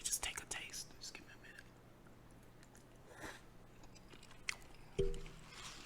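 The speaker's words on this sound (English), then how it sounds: "apologize for any smacking or slurping in advance. I try not to smack and I try not to slurp, but when it comes to spaghetti" Spaghetti being eaten up close, with soft wet chewing and smacking, a few crunchy bites and slurps among quiet whispered talk, ending on a brief louder thump.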